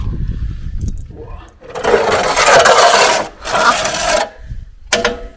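An old bread oven door at Innes National Park is forced open, a loud grinding, scraping rasp of metal in two long pulls followed by a short knock.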